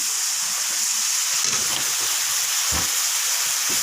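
Fish curry with rohu being braised in a hot pan hisses and sizzles steadily as a little water is added, a loud continuous steamy hiss with a brief burst partway through and no talking.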